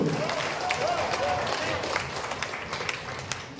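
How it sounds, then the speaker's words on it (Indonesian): Applause from the audience at a school quiz final erupts in a short, lively burst of clapping mixed with crowd noise and some voices, fairly close and steady throughout. "Kasih lagi tepukan yang dulu."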